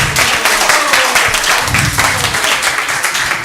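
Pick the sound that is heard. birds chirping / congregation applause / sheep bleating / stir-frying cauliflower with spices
congregation applause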